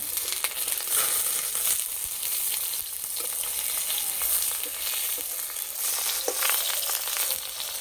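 Steady, crackling sizzle of bottle gourd leaves frying over low heat in a covered pan, continuous and fairly loud with fine popping throughout, no voices.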